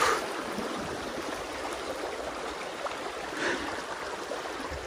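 Water rushing out through a breached beaver dam, a steady, fairly faint gushing and gurgling flow that continues unbroken, with a slight swell near the end.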